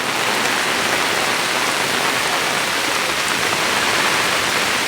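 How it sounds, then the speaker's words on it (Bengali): Heavy rain pours steadily on and around an umbrella in a Bangladeshi village market, a dense, loud, unbroken hiss of water with no voices. "প্রচণ্ড বৃষ্টি হচ্ছে"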